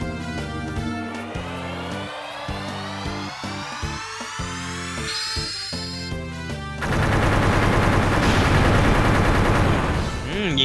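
Rapid bursts of machine gun fire rattle alongside synthetic game-like tones and effects in the game Saiyuki Journey West, growing dense and loud toward the end.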